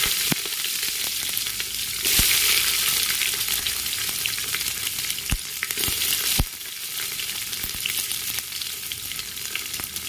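Onions sauté in hot oil for a bitter gourd kuzhambu, a continuous close sizzle broken by sharp clicks and scrapes of a spoon stirring the pan.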